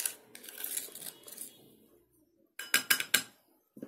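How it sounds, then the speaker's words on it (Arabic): Pressed face powder is crushed and broken up hard for a homemade liquid powder, giving crinkly scraping at first, then a quiet gap, then a close cluster of sharp cracking and clicking hits. "اهم حاجه تفتفتيها وتكسريها جامد جدا"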